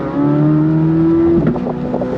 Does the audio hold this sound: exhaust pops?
yes